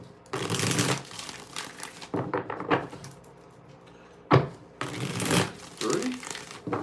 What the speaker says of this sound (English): Let's get 5 shuffles here.